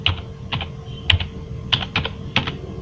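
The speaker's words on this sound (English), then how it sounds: "you can type the name here" Volume label for a bootable flash drive being typed on a computer keyboard: about a dozen crisp, irregular key clicks in quick clusters, close and distinct over a faint background hum.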